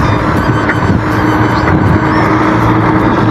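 A car driving along a road at dusk, its steady engine and tire rumble continuous and close with a faint wind hiss throughout, and no voices.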